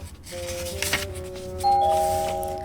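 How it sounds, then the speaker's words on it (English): A doorbell chimes with clear ringing tones, two notes sounding one after another and lingering briefly, with no voices. "Their meal was interrupted by the ringing of the doorbell."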